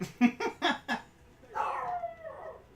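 Dog in a room giving a quick burst of four or five yips and whimpers, followed by a longer whining whimper, close and fairly loud.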